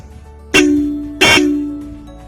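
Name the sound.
powerful aftermarket horn on Royal Enfield Classic 350 motorcycle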